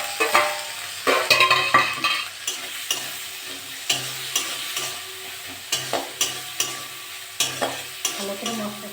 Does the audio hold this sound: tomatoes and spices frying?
yes